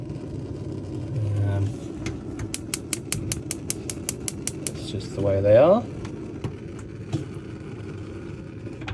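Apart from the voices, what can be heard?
Dometic three-burner hob igniter clicking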